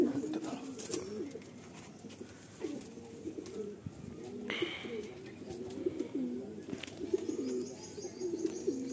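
Madrasi pigeons coo softly and repeatedly in a room, low rolling calls close by, with occasional chirps and faint background noise.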